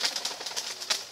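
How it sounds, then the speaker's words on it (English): A startled pigeon on a village road on Hayling Island bursts into flight close by, its wings clapping in a quick series of sharp flutters lasting about a second. "the scared pigeon"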